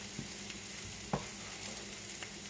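Curry chicken with peppers frying in a non-stick pan with a little oil, a steady broadband sizzle throughout, with a couple of brief stirring scrapes; no one speaks.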